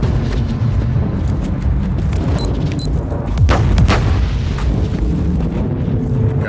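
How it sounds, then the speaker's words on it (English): Rebel mortar artillery fire in Warhammer 40000: Inquisitor Martyr, heard as a steady roar of booming explosions and rumbling blasts with a louder burst in the middle. "their mortars attacked the Imperial fort with artillery fire"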